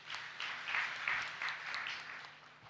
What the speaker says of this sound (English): Let's clap for Directline for that.